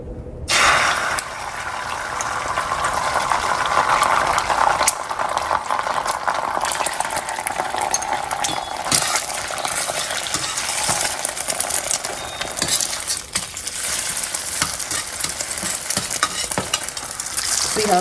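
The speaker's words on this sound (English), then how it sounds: "I'm just going to gently stir up that egg again, and we'll go ahead and scramble it" A thawed frozen egg is stirred and scrambled in a hot pan, giving a steady close sizzle with soft scraping stir strokes running throughout, no voice.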